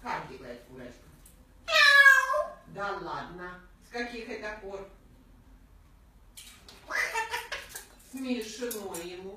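A parrot imitates a cat's meow in several drawn-out mews with pauses between, close by, alongside a person speaking.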